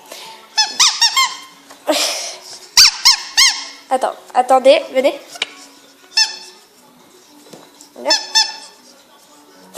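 A squeaky rubber chicken dog toy is squeezed repeatedly, giving loud, raspy honking squeals in irregular bursts, close by, with someone talking between squeaks.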